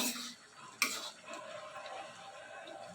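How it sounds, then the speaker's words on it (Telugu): Cooked chicken pieces frying in hot peanut oil for chicken pickle, a steady close sizzle with one sharp clank of a utensil near the start and stirring noise after it. "ఆయిల్ బాగా మరిగిన తర్వాత అందులో మనం ఉడికించి పక్కన పెట్టుకున్న చికెన్ మొత్తం వేసుకుని బాగా వేయించుకోవాలి"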